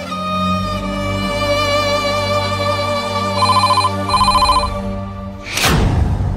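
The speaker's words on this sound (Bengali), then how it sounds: "এই ফোনটা ধর, কোনো কাস্টমারের ফোন হতে পারে।" A telephone ringtone plays repeatedly in a steady melodic pattern, loud and close, ending with a brief rustle.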